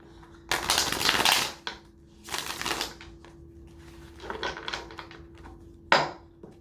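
Tarot cards being shuffled in several bursts of riffling and sliding, close by, with short pauses between and a steady faint hum underneath.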